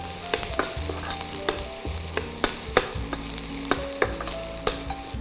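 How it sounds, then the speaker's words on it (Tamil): Ingredients sautéing in a little oil in a pan for a suji burger, a steady close sizzle broken by repeated scraping stirs and clinks of a spoon against the pan, with no one talking. "நல்லா வதக்கிக்கலாம். ஆயிலுமே ரொம்ப தேவைப்படாது"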